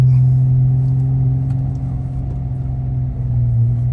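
Deep, steady exhaust rumble from an idling V6 Chrysler 300S on a cold start in snowy weather, low and throaty with a constant drone close by.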